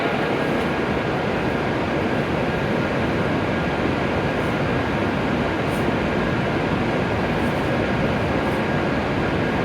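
Hokuriku Shinkansen E7 series train at Kanazawa station, a loud steady rumble and roar filling the platform throughout, with no speech.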